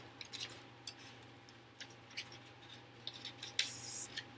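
Scissors snip through a piece of white paper in short, faint crisp cuts at an irregular rhythm, with a slightly longer rustling cut near the end, close and quiet with no talk.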